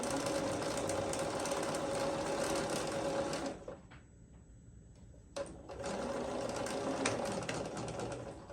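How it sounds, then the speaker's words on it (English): Sewing machine stitching a seam along a quilt row, a steady close whir that runs continuously, drops to near silence for about two seconds midway, then resumes at full speed. "I'm gonna sew down this row."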